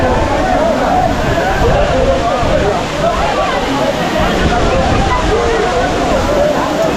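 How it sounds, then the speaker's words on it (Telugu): Kempty waterfall in Mussoorie on a foggy, cold morning: a steady, loud rush of falling water that fills the whole stretch without a break, with faint crowd murmur beneath it. "మేము మన కెంప్టీ వాటర్ ఫాల్స్ని మనం దగ్గర నుండి చూద్దాం"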